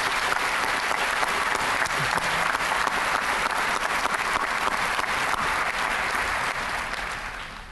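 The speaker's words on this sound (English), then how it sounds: "let's give them all one more round of applause, please." Audience at a 2013 WGU Texas university commencement ceremony bursts into sustained, dense applause, a steady wash of many hands clapping that holds evenly for several seconds before starting to taper off at the end.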